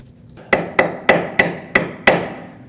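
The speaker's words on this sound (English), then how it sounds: "And I'll hammer in my Allen socket." Six sharp metallic hammer strikes, evenly spaced and close, drive an Allen socket onto a stuck bolt on the front lower control arm of a 2006-2015 Lexus IS250; no talking.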